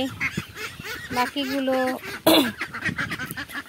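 Domestic ducks quack nearby in a few short, nasal bursts, mixed in with a person talking close by.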